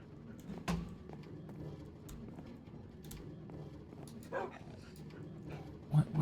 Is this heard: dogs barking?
yes